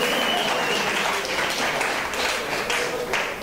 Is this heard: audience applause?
yes